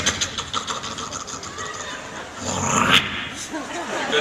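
A voice imitates picking a lock with lock tools, producing short clicky, scratchy mouth noises with a brief rising squeak near the end, close and fairly loud.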